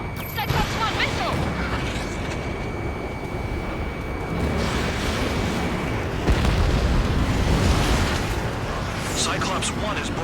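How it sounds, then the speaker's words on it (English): Missile explosions and combat blasts in the Ace Combat 7 flight game, steady loud rumbling booms throughout with a brief high tone early on, heavier burst around the middle, with radio chatter mixed in. "Cyclops 1, check your 6. Cyclops 1, missile!"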